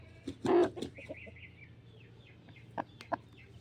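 Newly hatched Undertaker-line chicks and a hen cluck in short, scattered bursts, one loud cluster near the start and a few sharper calls later, over a low steady hum.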